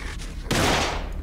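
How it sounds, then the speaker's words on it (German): Gunfire from the horror video game The Evil Within erupts as a loud, sustained broadband burst partway through, following a quieter stretch of game ambience. "Wieso darf der schießen überhaupt?"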